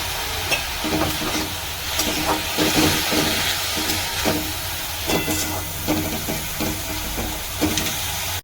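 Red amaranth greens fry in a hot pan with loud continuous sizzling and hissing, with rhythmic scraping stirs of a spatula throughout, no voices.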